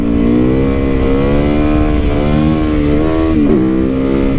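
A gas motorcycle engine revs loudly and steadily up close, its throttle rising and easing in a continuous throaty drone with a brief blip near the end, and no talk over it.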